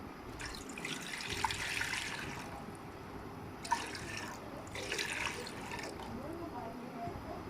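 About two glasses of water poured into a cooking pot for katta karahi with meat, a steady splashing, gurgling flow with brief louder surges, heard close.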